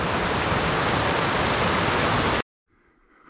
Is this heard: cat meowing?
no